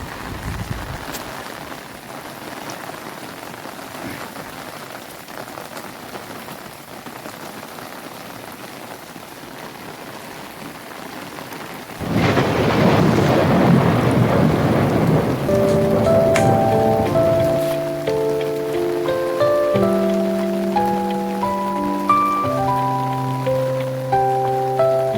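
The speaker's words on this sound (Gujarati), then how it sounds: "જો ભાઈ વરસાદ પડે છે અત્યારે" Heavy rain pours down on a village in a steady hiss that swells much louder about halfway through, with tonal sounds layered over the downpour.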